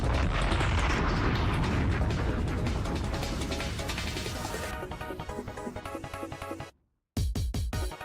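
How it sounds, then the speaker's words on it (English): A heavy, roaring explosion effect played during an Xbox GamesCom 2025 broadcast stream, loud and sustained as it decays, then cut off briefly by silence before crackling debris-like bursts return. "we gotta drop a bomb for this right here"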